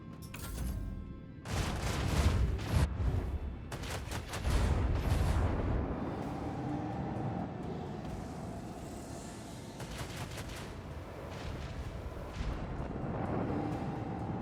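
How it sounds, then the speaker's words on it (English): Heavy booming spaceship macro cannon fire in Warhammer 40,000: Rogue Trader, a burst of repeated blasts over the first six seconds, then a sustained rumbling roar of battle. "Macro cannons, open fire!"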